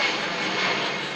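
Airplane flying overhead, a steady broadband engine roar that stays loud and even from start to finish with no talk.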